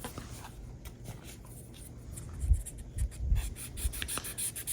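Sandpaper of 320 grit rubs over a 3D printed model car body, smoothing away layer lines in tight corners and edges; a soft, close, continuous scratchy scrubbing with irregular strokes, heard alone.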